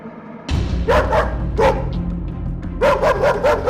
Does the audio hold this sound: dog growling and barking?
yes